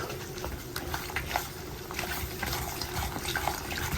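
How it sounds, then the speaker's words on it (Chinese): Water poured over hot pepper soup seasoning packets and stirred to dissolve them, a steady close wash of liquid trickling and sloshing with soft scraping throughout, no talk. "把料包先给它化一下，加点水，给它搅拌一下"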